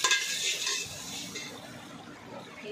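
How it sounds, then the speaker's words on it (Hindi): A spoon stirs spices into potatoes in a pot for homemade potato biryani, scraping and clinking close by with a soft sizzle underneath, loudest at the start and then settling. "इसके बाद इसको हम चलाएंगे"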